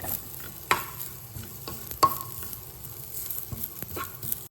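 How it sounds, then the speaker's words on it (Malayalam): Grated coconut being stirred and roasted in a pan, a soft continuous sizzle broken by sharp spoon scrapes and clacks at irregular intervals, no talking. "തേങ്ങയുടെ കളറൊക്കെ മാറുന്നത് വരെ നന്നായി ഇളക്കി വറുത്തെടുക്കണം."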